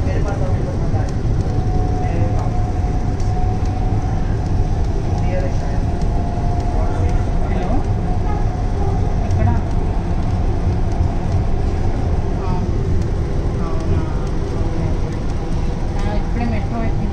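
A Hyderabad Metro Rail train runs between Hitec City and Ameerpet, heard from inside as a steady low rumble and rolling hum. A bilingual onboard announcement plays over it the whole time.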